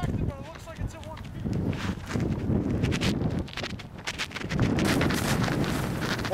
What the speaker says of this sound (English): The wind is a little stronger than I expected